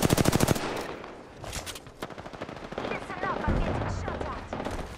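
Rapid automatic gunfire from Apex Legends rattles in a dense opening burst, then continues in scattered shots under game effects and a voice.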